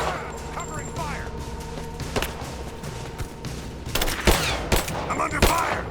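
Gunfire in the Rise of the Tomb Raider video game: scattered sharp shots and bursts over a continuous background din, growing louder near the end, with voices shouting in between.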